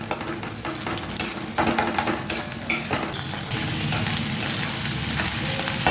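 Salted eggs are stirred in a hot pan to scramble them. A spoon scrapes and taps in short strokes over a sizzle, and the sizzle grows into a steady fry.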